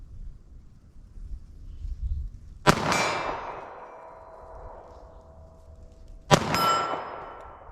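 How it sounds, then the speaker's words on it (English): Two sharp shots from a .380 ACP pistol firing hard cast rounds at a steel target 40 yards away, outdoors, each crack ringing on with a long metallic clang, spaced several seconds apart over light wind. "let me fire a few rounds of these hard cast here"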